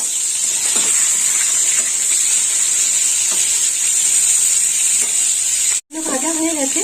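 Eggplant pieces frying in hot oil after turmeric and salt go in, a steady loud sizzle with faint stirring scrapes, cut by a brief dropout near the end before the hiss resumes.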